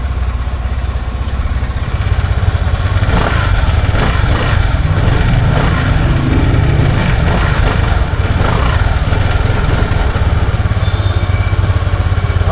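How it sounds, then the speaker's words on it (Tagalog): A QJMotor ATR160 motorcycle engine runs with a steady low rumble and uneven pulses as it sputters and cuts out, close and continuous throughout. "So, nagpapatay-patay yung makina kapag na-andar natin siya."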